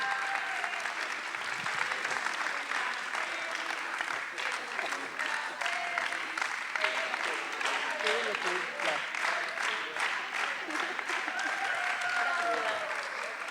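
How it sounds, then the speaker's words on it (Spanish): An audience at a theatre spectators' school session breaks into sustained applause for a birthday. The dense clapping runs steadily throughout, with some cheering voices mixed into the crowd. "Aplauso."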